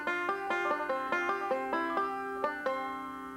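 Five-string banjo plays two measures of quick, evenly picked rolls, bright plucked notes ringing in a steady rhythm, close and alone with no talking.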